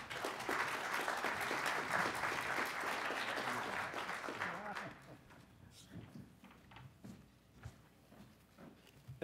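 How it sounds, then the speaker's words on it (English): Conference audience applauding a justice's introduction, loud dense clapping for about five seconds, then fading to scattered claps and shuffling with faint voices. "Big round of applause for him."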